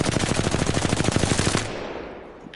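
Automatic gun in Apex Legends sprayed at a wall, a rapid, even burst of loud shots for about a second and a half, then a fading tail.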